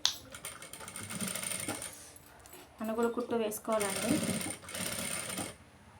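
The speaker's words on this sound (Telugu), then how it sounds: "దాని తర్వాత దీనిపైన అనుగుడు కుట్టు వేసుకోవాలండి." A sewing machine stitches a designer blouse in short, rattling bursts separated by pauses, close and moderately loud, with someone talking between and over the runs.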